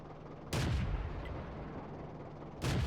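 A tank gun fires two loud booming shots about two seconds apart in the World of Tanks video game, each a sharp blast followed by a low rumbling tail.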